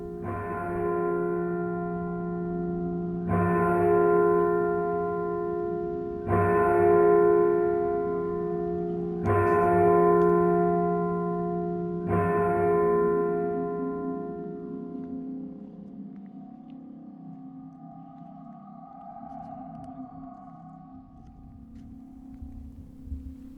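A clock tower bell on an old hospital building tolls five slow, evenly spaced strikes, each ringing out with a long, rich decay before fading into quiet.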